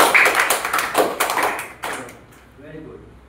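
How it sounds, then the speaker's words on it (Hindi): An audience claps together in a dense burst of fast hand claps that fades over about two seconds. A voice can be heard at the tail end. "ताली तो बता दो इसके लिए"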